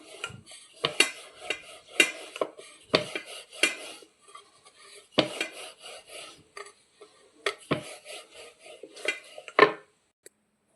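Maida dough for chavde being rolled out thin with a rolling pin on a board, giving repeated rasping, rubbing strokes with soft wooden knocks in an uneven rhythm, close and fairly quiet, with no talking.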